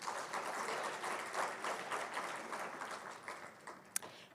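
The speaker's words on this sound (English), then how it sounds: "Give yourselves a round of applause." Applause from a graduation audience at a Kente stole ceremony sounds faint and somewhat distant, a steady patter of many hands that slowly thins out, ending with one sharp louder clap.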